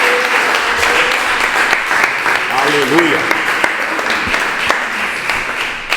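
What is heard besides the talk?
congregation applauding in church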